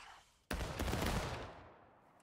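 A loud musket volley in the Civil War game War of Rights, a sudden massed crack of many rifles fired together that rolls into a long, fading rumble over a few seconds, with no speech.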